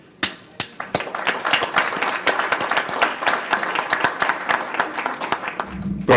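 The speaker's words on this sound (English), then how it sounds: "give them a nice rounding of applause" Audience applause at a city council meeting honoring women of the year, a full room clapping steadily for about six seconds after a few scattered early claps, fairly close and loud, with no talk over it.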